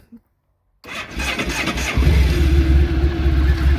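A 2001 Honda ST1100 Pan-European motorcycle with ABS and traction control starts after a short silence, the starter catching into a loud, steady idle close by.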